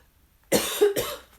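A single adult cough breaks out after silence, two or three harsh bursts in quick succession, close and fairly loud, with no talk around it.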